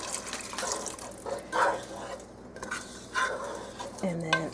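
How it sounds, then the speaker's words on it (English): A spoon stirs canned coconut milk into a pot of pigeon pea curry, making soft intermittent scrapes and liquid swishes at close range in a quiet kitchen, with a small clink near the end. "I'm gonna stir it and then just pour it in there."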